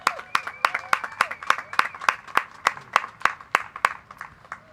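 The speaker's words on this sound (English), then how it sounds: "I think he deserves a big round of applause." A round of applause at the Bike To Work Columbus 2019 event, with a few nearby hands clapping sharply and rhythmically over a murmur of voices and some tonal background sound.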